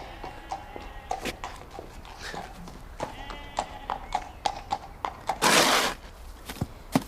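Hooves of a ridden horse clip-clop at a steady walking pace, close and clear, with a brief burst of noise partway through.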